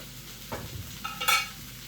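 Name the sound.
vegetables frying in a small pan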